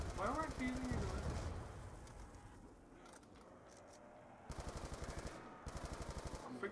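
Gunfire from a Call of Duty game, heard as faint, rapid bursts of automatic fire in repeated runs, partly under a voice at the start.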